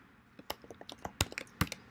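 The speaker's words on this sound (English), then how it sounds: "I'll type equals average, and I'll fill it in" Someone types on a computer keyboard while entering a formula in Excel, giving a quick, irregular run of soft, close key clicks with a few sharper taps, heard alone and fairly quiet.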